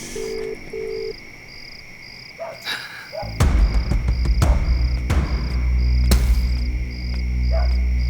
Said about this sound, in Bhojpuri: घंटी जाता फोनवा ना उठाओ तुमन